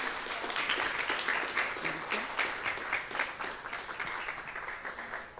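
A crowd claps steadily at a literary anthology event, the full round of applause holding at an even, moderately distant level throughout.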